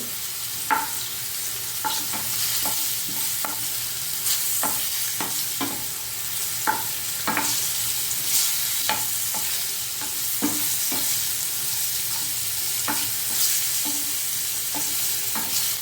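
Dry fish curry fries and sizzles in a pan, with a steady hiss broken by repeated sharp scraping clicks as a spoon stirs it at an uneven pace, close and alone with no talk.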